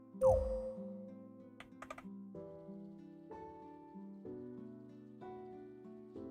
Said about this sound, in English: Hold down the Alt key to the left of your space bar and hit the Enter key on your keyboard.